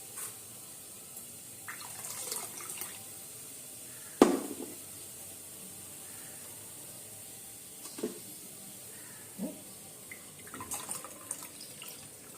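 Water poured into a cooking pot for making pongal at home, with a few splashy pours and a sharp clank partway through, separated by quieter stretches of faint trickling and drips.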